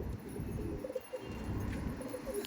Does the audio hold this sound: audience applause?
no